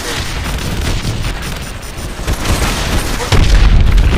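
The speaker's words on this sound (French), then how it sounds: "Verrouille les points cibles et tire dessus avec tes missiles." Missile strikes and explosions in the video game Call of Duty Advanced Warfare, loud continuous low rumbling booms that build and swell, with a heavier blast near the end and no audible talk.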